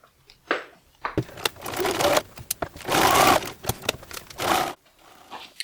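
A sewing machine stitching an upcycled garment in several stop-start runs, each a close whirring rattle, separated by brief fabric shuffling and handling.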